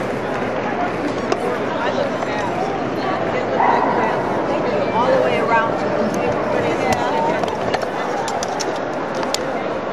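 A puppy yips, barks and whimpers in quick, uneven bursts, close and fairly loud, over a steady background hiss.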